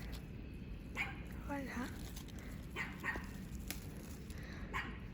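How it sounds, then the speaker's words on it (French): A small dog barks and yips a few times outdoors in a patch of violets, short sharp calls at moderate distance, with a person speaking briefly nearby. "un petit chien qui m'aboie dessus"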